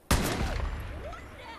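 A single loud, close gunshot in the video game Far Cry New Dawn cracks out sharply, then rings into a long decaying reverberant tail with faint background game sounds.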